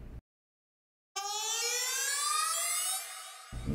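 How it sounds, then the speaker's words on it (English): A strobe riser transition effect from Logic Pro X starts after a short silence and climbs for about two seconds. It is a bright, harmonic, siren-like rising tone that fades out, heard alone with nothing else playing. "let's say this strobe riser"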